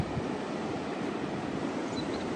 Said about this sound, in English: the waves are huge, and the roar of them.